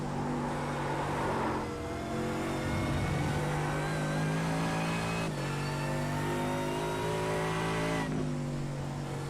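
A GT race car driven hard around Circuit de la Sarthe in the Scandinavian GT Series, its engine note screaming and climbing through gear changes, loud and close, with no talking.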